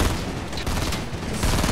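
Rapid, continuous gunfire in a Fortnite match fills the whole stretch, a dense rattle of shots with a louder surge near the end, close and loud with no talk over it.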